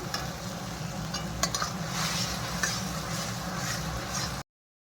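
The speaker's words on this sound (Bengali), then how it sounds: "মশলাটা ভালো করে কষে নিচ্ছি।" Spice paste being sautéed with a little water before vegetables go in for a five-vegetable sukto, an even crackling sizzle with occasional stirring clicks, close and moderate, then cutting off to silence.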